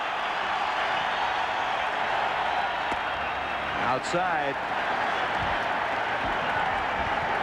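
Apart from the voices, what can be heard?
baseball crowd at Fenway cheering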